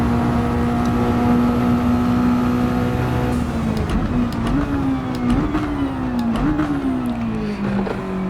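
A Mazda Roadster Touring Car engine in Gran Turismo 7 at Deep Forest drones loudly and steadily, its pitch rising and dipping through gear changes and throttle lifts, with no speech over it.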